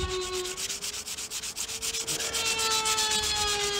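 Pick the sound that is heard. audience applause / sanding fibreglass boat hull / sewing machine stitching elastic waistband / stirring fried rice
sanding fibreglass boat hull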